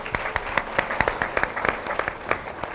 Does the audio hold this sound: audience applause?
yes